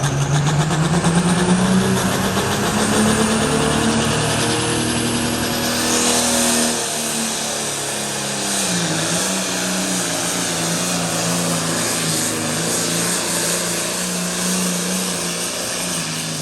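The Buccaneer pulling tractor roars through a tractor pull run, a loud, sustained engine howl that holds steady near the start, then drops slightly in pitch and level as the run continues to its end.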